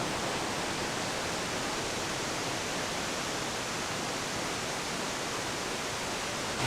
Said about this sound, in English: right next to the nature center is Cane Creek Falls and Cascades